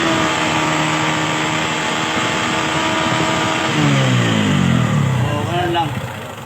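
A motorcycle engine is revved hard during a misfire check, a loud steady roar that climbs in pitch and surges near the end, with someone talking over it.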